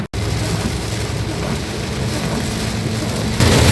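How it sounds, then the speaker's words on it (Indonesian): Heavy rain pours steadily during a drive through Brebes, a dense, loud wash of drops hammering the car, continuous throughout with a low road rumble beneath and a slight swell near the end. "Jadi ini hujan deras banget"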